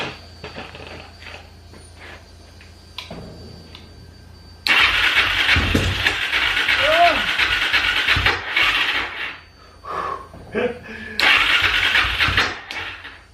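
A turbocharged, fuel-injected Suzuki Z400 motorcycle engine sputters, then catches and roars loudly on its first start, revving up and down with brief dips; a man exclaims once near the start.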